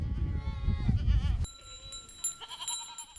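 Goats and sheep in a Bedouin encampment in the Jordanian desert bleat as they get ready to head out to graze. Several animals call in overlapping, wavering bleats, loud and close at first, then a few thinner calls farther off.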